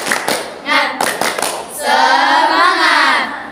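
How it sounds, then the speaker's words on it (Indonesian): Children in an Islamic school setting perform a rhythmic 'tepuk semangat' clapping routine, a few sharp claps in a pattern followed by chanted voices, close and loud. "Tepuk semangat"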